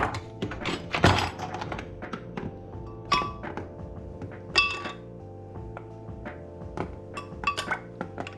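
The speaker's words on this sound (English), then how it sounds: "And now what we're gonna do is get the ice cubes." Ice cubes taken from a tray and dropped for a banana milkshake, with scattered clinks and knocks against glass and hard surfaces, close and intermittent.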